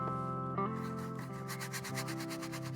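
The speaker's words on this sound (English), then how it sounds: "I'm just taking and scrubbing that into the canvas, making sure that all of it is covered up well" A brush scrubs paint into a canvas with a steady, close rubbing and scratching texture, heard over a constant tonal hum.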